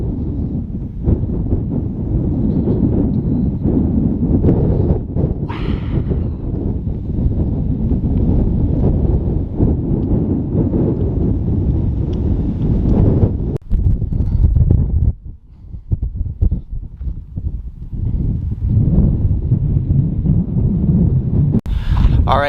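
Strong wind buffets the microphone at a Saguaro National Park overlook above a valley of cacti, a loud, continuous roaring rush with gusty surges and a brief dip partway through.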